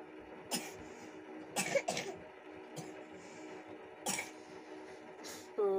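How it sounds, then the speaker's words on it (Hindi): A child coughs several times in short, irregular bursts, fairly close, with quiet stretches between coughs. "उसको खांसी आ रही है"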